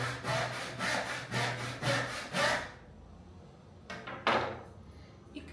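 Hand saw cutting through wood while building a table: a run of regular back-and-forth rasping strokes up close, then a pause and a few slower, scattered strokes.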